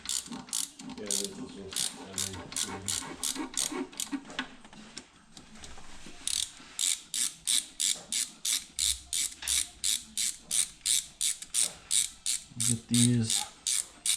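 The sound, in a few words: short ratchet with swivel turning bolts on a Ford Escape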